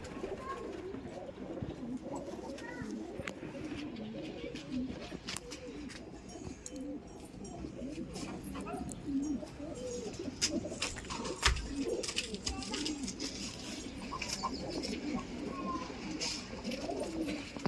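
Malwai pigeons coo softly and repeatedly against a low background hum, their throaty calls overlapping at a close but quiet distance.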